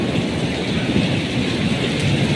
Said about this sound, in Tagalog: Unang ulan dito sa Jeddah mga idol.